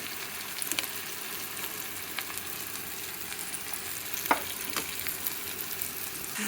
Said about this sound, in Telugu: ఉల్లిపాయలు వేగాలండి.